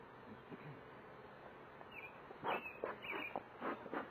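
Honey bees at a mating nuc hive give off a faint, low buzz, with a few slightly louder bursts of buzzing near the end and no talking.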